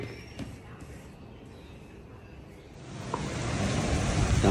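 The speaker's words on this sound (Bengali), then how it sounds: "আমাদের এখানে হঠাৎ করে কাল বৈশাখী ঝড় শুরু হয়েছে।" A sudden Kalbaishakhi storm in Bangladesh: a soft, steady hiss of rain swells into a loud, continuous roar of downpour and gusts in the second half.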